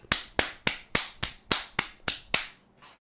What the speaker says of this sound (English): I'll give you the uh, Batman Joker clap